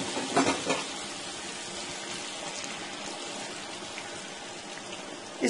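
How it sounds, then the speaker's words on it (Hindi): Fries coated in cornflour and rice flour sizzle steadily in hot oil, a dense, even crackling hiss with a few louder pops near the start and end. "ऑयल जो है वो बिल्कुल तैयार हो चुका है। अब हम इसमें अपने फ्राइज डाल देते हैं।"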